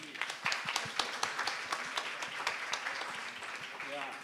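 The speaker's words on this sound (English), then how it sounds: "Let's give them another round of applause," An audience at a conference gives a round of applause, rhythmic clapping at a moderate distance that carries on steadily throughout.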